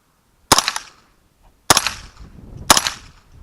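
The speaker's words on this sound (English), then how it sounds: "It's brand new, never been used before, so we'll go ahead and give some shots, see what she does." Three separate .22 caliber rifle shots ringing off a new steel dueling tree target, each a sharp crack with a brief metallic ring, spaced about a second apart.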